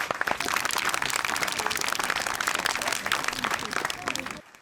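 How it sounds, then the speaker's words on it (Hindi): Applause and clapping break out at a Hindi-speaking public event after a local politician is introduced, a dense patter of claps over crowd noise holding steady for several seconds before cutting off. "तालियां।"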